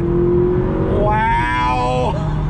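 A manual McLaren 570GT accelerates hard in first gear onto a highway, its engine note rising loud and close in a steady climb before a sharp drop at the shift.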